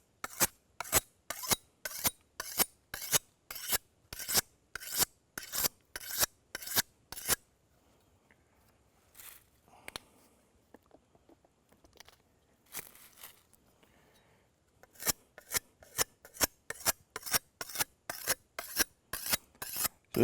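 A large knife blade from a Battlbox self-reliance kit is sharpened with a file: a long run of quick, even rasping strokes, a quieter pause with light scraping, then another steady run of close strokes.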